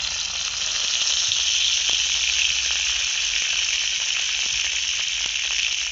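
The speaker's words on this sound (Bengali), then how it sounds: "আবার সেই একই কড়ার মধ্যে দিয়ে দিচ্ছি ফোড়নে দুটো শুকনো লঙ্কা" Dried red chillies and bay leaf sizzle steadily in hot oil in a kadai, a dense continuous hiss with faint crackles running close and even throughout.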